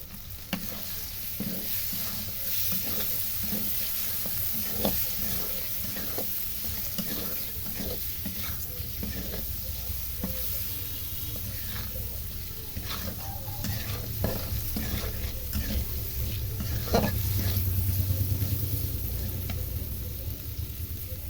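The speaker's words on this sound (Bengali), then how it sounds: "এখন দিয়ে দেবো চিংড়ি মাছগুলো।" Shrimp stir-fried in a pan for a shrimp and plantain curry: a steady, close sizzle runs throughout, with repeated scraping and stirring strokes of a utensil against the pan, and no talking.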